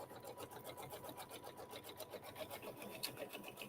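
A sewing machine stitches quilt fabric in a steady, fast, even rhythm of needle strokes, running continuously at close range without pause or voices.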